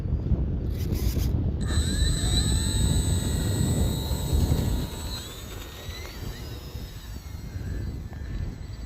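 An Arrows RC Bearcat model plane takes off slowly without flaps, its electric motor a steady, fairly loud whine with rising tones that eases and recedes partway through.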